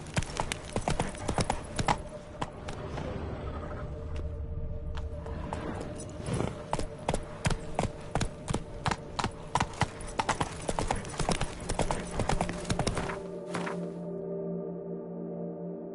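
Horse hooves clip-clop steadily in The Witcher 3, a brisk, even rhythm of close hoofbeats on hard ground that continues for several seconds before stopping.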